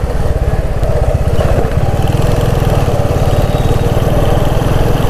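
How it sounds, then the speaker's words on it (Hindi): Engines idle and putter near a four-lane flyover construction site at a busy crossroads, a loud, steady, rhythmic engine chug close by with no speech. "इस कंस्ट्रक्शन के वजह से यहाँ पे काफ़ी ज़्यादा ट्रैफिक लगती है"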